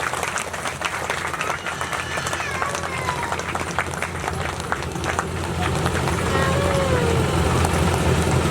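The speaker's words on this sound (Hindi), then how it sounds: "ताली से स्वागत करो हमारे भैया के लिए।" Steady, dense applause from a large audience greeting a guest at a religious gathering, with continuous clapping that swells slightly louder toward the end.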